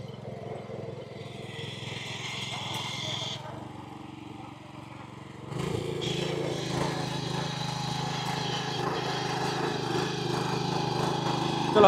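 WB Agro India power weeder engine running in a farm field, a steady mid-pitched motor drone that drops briefly and then returns louder and fuller, with people talking nearby.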